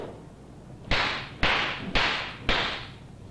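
Four sharp slaps on the shoulder ring out one after another at roughly half-second intervals in a quiet Zen meditation hall, each a crisp, loud crack that fades quickly.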